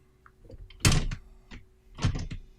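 A bedroom door swings open and bumps against a bed, giving two soft wooden thuds with light creaks and rattles in a quiet room.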